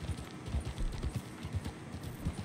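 Horse hooves clip-clop in Farming Simulator 22, a quiet steady rhythm of hollow hoofbeats at walking pace, low and muffled, continuing throughout.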